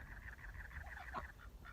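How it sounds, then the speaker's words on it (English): Faint, nasal honking calls from waterfowl overlap in a low, continuous chatter, somewhat distant and quiet. "the ducks. They're so noisy."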